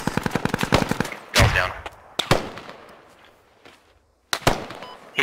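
A mounted machine gun in the military shooter Squad fires a rapid, evenly spaced burst, then several isolated loud shots and booms with echoing tails, separated by quieter gaps.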